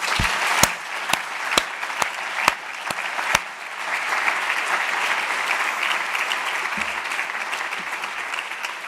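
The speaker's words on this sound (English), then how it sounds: "please join me in an applause to say thank you" Audience applause fills a room at a consumer protection conference, opening with a few distinct sharp claps before settling into steady, dense clapping that continues to the end.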